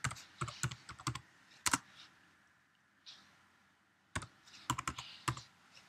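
Keys clatter on a Mac keyboard as a terminal command is typed, in quick bursts of close clicks separated by brief pauses, with no talk.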